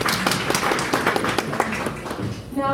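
Conference audience clapping for a colleague: a moderate burst of many hands at a close-to-mid distance, steady then thinning toward the end, with a voice starting as it fades.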